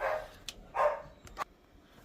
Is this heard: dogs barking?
yes